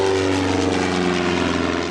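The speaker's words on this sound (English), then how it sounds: "with the plane flying over his head" Propeller airplane flying low overhead during a film stunt, a loud steady droning engine hum with strong tonal whine, filling the whole stretch.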